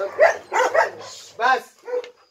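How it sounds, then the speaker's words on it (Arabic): Small dogs, just let loose to eat, bark and yip in short sharp bursts close by, several rapid calls separated by brief gaps. "هو طالق الكلاب الصغيره عشان بتاكل دلوقتي"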